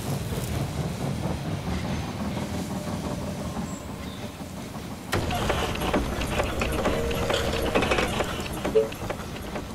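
A train pulls into the station in They Are Billions, its rolling rumble and clatter growing louder and denser partway through as it comes in, with no voices.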